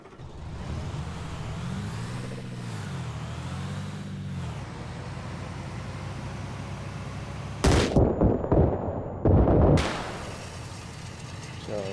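A vehicle in the video game Arma Reforger drives over AP mines, its engine droning steadily before two loud, sharp bursts of blasts break in near the end.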